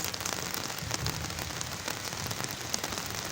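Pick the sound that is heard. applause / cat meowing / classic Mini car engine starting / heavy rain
heavy rain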